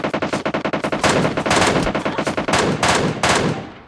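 Rapid bursts of MK14 rifle fire in PUBG Mobile Lite, a quick stuttering string of loud, close shots followed by heavier spaced volleys, with no talk.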